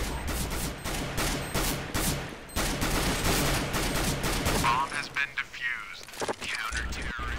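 Rapid bursts of gunfire in CS:GO as a player shoots at the planted bomb, dense repeated shots for several seconds, then thinning out under game noise and some voice chatter.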